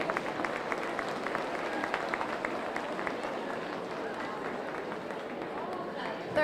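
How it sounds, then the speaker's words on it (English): Audience at a youth fair market hog show in Polk County claps in a steady, broad patter of applause from a crowd, with a voice speaking over it in the arena. "Give him a round of applause."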